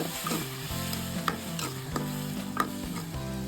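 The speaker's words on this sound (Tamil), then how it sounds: "இது கொஞ்சம் நேரம் வதங்கி வரணும்" A paste of ground tomato, ginger and garlic sizzles steadily while being sautéed in a pan, with a spoon stirring and scraping against it now and then. Close, with no talking.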